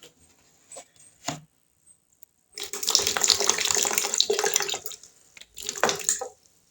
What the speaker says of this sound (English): I'm adding some vinegar.